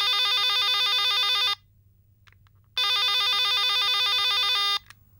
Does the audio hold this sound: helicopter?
no